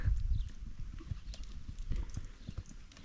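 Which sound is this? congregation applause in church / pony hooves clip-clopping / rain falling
pony hooves clip-clopping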